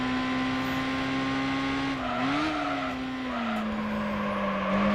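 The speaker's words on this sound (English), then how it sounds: "we are driving a Mazda MX-5, and also because, well, this car is pretty powerful" A Mazda MX-5 in Gran Turismo 4 Prologue holds a steady, buzzing engine drone through the corners, its pitch dipping and rising as the car eases off and accelerates again, with no talking.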